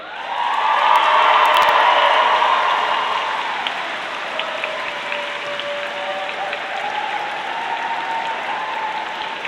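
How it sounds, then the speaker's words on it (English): Audience in a cathedral at a graduation ceremony clapping, cheering and whooping, a loud, dense burst of applause with high whoops that peaks early and then settles into steadier, softer clapping with reverberant cheers. "So please clap, cheer, stamp your feet, whoop, and say thank you to these fantastic people here in the cathedral."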